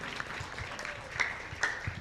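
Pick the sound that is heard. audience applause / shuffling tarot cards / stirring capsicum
audience applause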